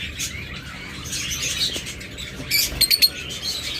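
Farm birds kept for sale chirp and tweet close by, a run of bright high calls with a quick cluster of sharp chirps toward the end, over a faint background hum.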